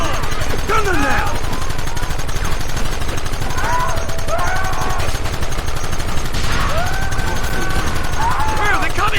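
Continuous loud gunfire rattles through a shootout in the video game Red Dead Redemption on PS3, with shouting voices and whistling tones over the steady barrage.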